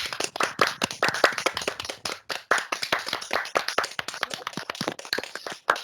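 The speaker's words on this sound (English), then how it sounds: "give Ian and Paddy one more round of applause for all their hard work tonight." A small group claps to close a Dynamics 365 user group evening meeting, with scattered, uneven hand claps that keep going for several seconds and never build into a dense roar.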